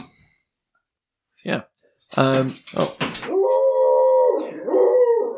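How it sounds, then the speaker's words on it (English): A dog howls and whimpers indoors in long wavering cries after a few short yelps, fairly close and loud, with people talking around it. "My dog's losing its mind."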